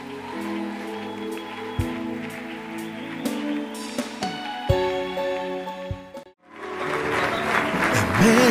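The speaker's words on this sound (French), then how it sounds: "J'aimerais que tu acclames le Seigneur." A church congregation breaks into cheering and applause after sustained keyboard music, the clapping rising as a dense, rain-like wash over the last couple of seconds.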